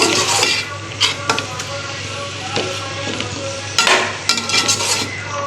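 Bitter gourd curry with browned onions being mixed in a cooking pot, a spoon scraping and clinking against the metal in irregular bursts over a steady low background hum, close and fairly loud.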